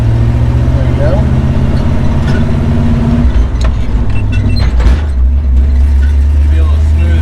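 A 53-year-old truck drives along in a loud, steady low engine drone that shifts pitch partway through as it changes gear, with a rougher rumble afterward.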